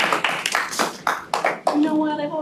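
A small group claps together in a committee meeting room, a short burst of applause that tapers off as a voice begins speaking.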